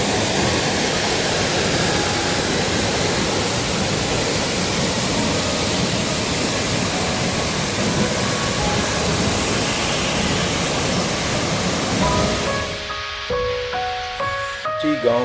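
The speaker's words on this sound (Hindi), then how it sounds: "हमें इस ट्रैक का पहला और सबसे शानदार झरना मिला है।" A waterfall on the Madhyamaheshwar trek in the Himalayas roars as a loud, steady broadband rush that fills nearly the whole stretch, then fades near the end as a soft tonal sound takes over.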